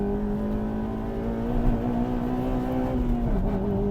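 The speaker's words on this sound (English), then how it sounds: "When you get into the upper revs, into the VTEC on this car, it is absolutely insane." Honda Civic Type R FD2 engine climbing into its upper revs, a steady strained high-rpm drone holding loud and close for several seconds with a brief dip near the end.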